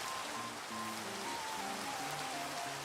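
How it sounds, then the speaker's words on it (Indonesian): Rain falling in the Minecraft video game, a steady dense hiss of drops that lasts throughout, with soft tonal in-game music notes drifting under it and no voices. "Hujan."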